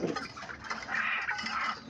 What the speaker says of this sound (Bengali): অনেক জোরে জোরে এরকম আওয়াজ করে পুরুষ পাখিগুলো।